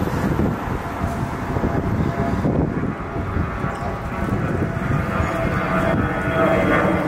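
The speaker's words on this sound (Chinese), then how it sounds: "飞机的数量太多了，密度太高了，晚上都有。" A fixed-wing airplane passes overhead above a city neighborhood, its jet roar loud and sustained across the whole span with some wind buffeting on the microphone and no talk.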